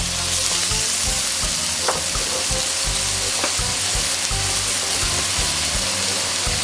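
Tofu pieces fry in a hot pan for a vegetarian holy basil stir-fry, giving a loud, steady, unbroken sizzle with faint clinks of stirring and no talking.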